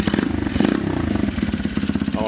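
A Honda Dax 50cc motorbike with its exhaust baffle removed fires up and settles into a loud, rapid, rattly putter close by, the pulsing steady throughout, with a voice talking over it.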